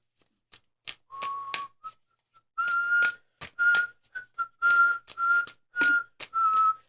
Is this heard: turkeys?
no